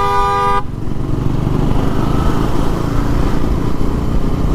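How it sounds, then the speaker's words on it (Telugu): A loud vehicle horn blares for about half a second at the start. A heavy engine then rumbles steadily close by on the road for the rest of the stretch. "ఇంత హారన్, ఇంత హెవీ హారన్ ఉన్నా కూడా వాళ్ళకి వినబడతలేడు."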